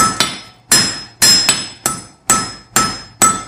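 Close, loud hammer blows as a blacksmith forges a rune pendant, the peen side spreading the metal, striking in a steady rhythm of about seven ringing hits with bright metallic overtones, no talking.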